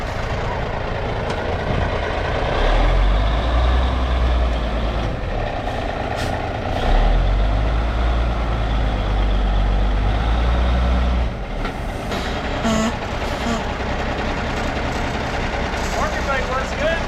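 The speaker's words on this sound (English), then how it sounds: "when I put it in the four-wheel, she climbed right up this little hill, no problem" An M923 5-ton military truck climbs a small hill in four-wheel drive, its heavy engine rumbling loud and low with surges of power. Voices talk over it.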